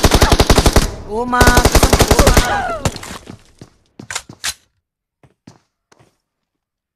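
Rapid automatic gunfire laid down as cover fire, dense rattling bursts for about three seconds, then sparse single shots and thuds fading out; a brief exclaiming voice is heard.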